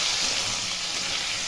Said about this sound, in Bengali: আলু এখানে ভাজা হয়ে গেলে আলুটা তুলে নেব।